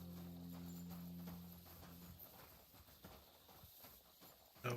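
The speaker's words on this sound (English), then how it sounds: "I think this is Hans' new horse." Horse hooves clip-clop in a video game, a faint, steady run of soft hoof beats under a low droning tone that fades out after about two seconds.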